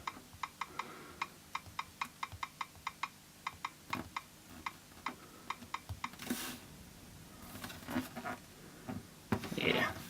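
Taps on the on-screen keyboard of a Nexus 7 tablet come as a quick series of light ticks and clicks, faint and close. Someone speaks quietly in the background.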